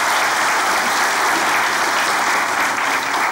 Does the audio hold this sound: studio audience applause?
yes